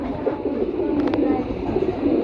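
A mated pair of domestic pigeons, a female beside her male, coos with low, steady murmuring throughout, close by against a busy background.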